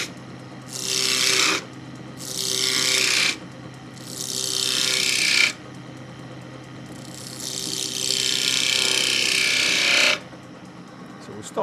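A skew chisel cutting a pommel into spinning wood on a lathe, heard as four separate shearing, rasping passes of a few seconds each, the last one longest, between brief pauses with a low motor hum underneath.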